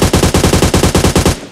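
Rapid automatic gunfire in PUBG Mobile, a loud steady burst of about a dozen evenly spaced shots over a second and a half, close and alone, cutting off abruptly.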